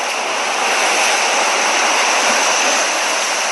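Steady, loud roar of ocean waves, a continuous broadband wash of surf with no distinct breaks, heard close and alone with no voices.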